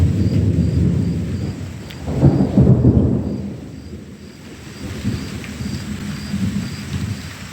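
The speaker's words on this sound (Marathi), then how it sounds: "चला पावसाला सुरुवात झाली आहे मगाशीच" A night thunderstorm with rain in a village: heavy, steady rainfall with a deep rolling thunder rumble swelling midway, then easing back into the hiss of rain, while a faint repeating beep sounds in the background.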